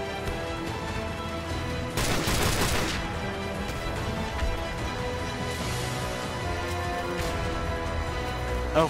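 M21 sniper rifle fire in Modern Warfare Remastered, one loud burst of gunfire near the two-second mark standing out against continuous game background noise.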